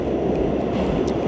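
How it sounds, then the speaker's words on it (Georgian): A subway train runs from Manhattan toward Brooklyn, a loud, steady low rumble and roar of the moving car with no voices. "ჩაუჯექის მეტროში"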